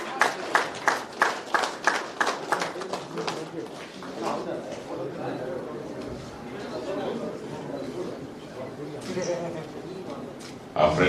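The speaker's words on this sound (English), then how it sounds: "you give a huge round of applause" An audience at a 2021 boxing federation felicitation ceremony for Arjuna, Dhyan Chand and Padma Shri awardees claps in a burst of loud, rhythmic applause for a few seconds, then settles into crowd chatter and speech.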